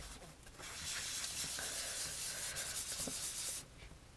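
Steady rubbing of a sponge or applicator smoothing ink onto paper in a stamping craft, a continuous close scrubbing texture lasting a few seconds before stopping.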